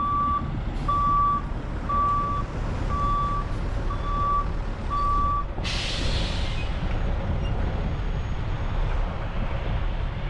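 Volvo dump truck backing up to dump its load, a steady series of loud reversing beeps over a rumbling diesel engine, then a sharp hiss of air brakes as the beeping stops.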